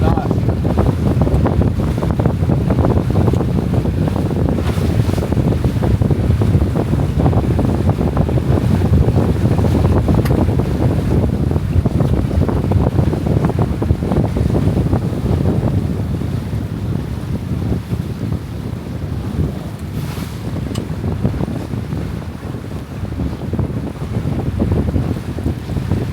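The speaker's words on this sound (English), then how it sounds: "Thought the wind had started to die down some for today," Strong wind buffets a Catalina 22 sailboat under sail, a loud, steady roar of gusts and microphone wind noise with water rushing along the hull throughout, easing slightly toward the end.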